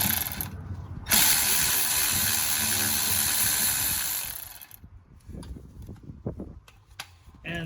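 A ratchet wrench with a 12 mm socket turns a starter bolt on a 2005 Mustang 4.0, a loud steady clicking burst that then breaks into shorter, uneven ratcheting strokes.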